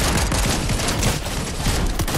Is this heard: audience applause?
no